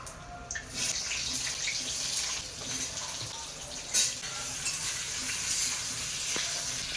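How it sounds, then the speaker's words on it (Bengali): Eggplant pieces frying in leftover potato-frying oil in a pan, a moderate steady sizzle with a few soft bumps and scrapes of stirring, no voices present. "আলু ভাজার তেল আছে এবারে বেগুনগুলো ভেজে নেবো"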